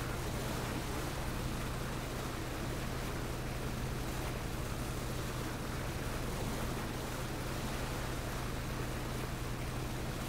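Motorboat engine droning steadily across the water in the PUBG battle royale game, a continuous broadband roar with a constant low hum and wash, unbroken and even in level with no talk.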